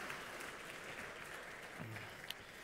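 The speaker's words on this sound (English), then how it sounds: "let's give them one more round of applause." A church congregation at a Christmas Eve morning worship service applauds the choir after a cantata, a faint, steady patter of many hands clapping from across the room.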